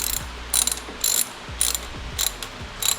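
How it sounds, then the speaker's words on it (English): A ratchet wrench tightens the new 5mm Allen top bolt of a Mosselman oil thermostat on a BMW S55 engine, giving six quick bursts of close, crisp clicking at a steady rhythm with no talk. "we can go ahead and put in the new top bolt that is included with the kit"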